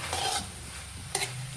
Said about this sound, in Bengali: এখন একটু নাড়াই দিতেছি